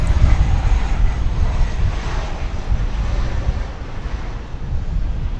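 A departing MD-11 airliner roars steadily at Dallas Fort Worth Airport, a loud, broad jet rumble with wind noise, heard at a distance and without talking.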